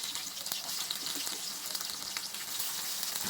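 Onions frying in oil with curry leaves, a dense even sizzle and crackle with a few light stirring taps, moderately quiet and close, no voices.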